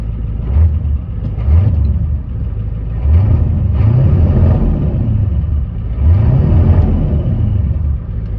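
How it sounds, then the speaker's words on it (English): A 1992 Ford F250 with the IDI diesel engine idles nearby, a loud, low rumbling clatter that swells and eases in slow, uneven pulses as the idle settles, with no voices over it. "it's been idling for a second, got good oil pressure"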